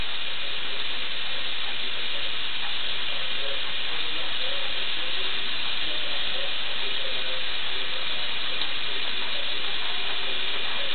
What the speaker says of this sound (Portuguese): É gostoso lavar louça, meu filho?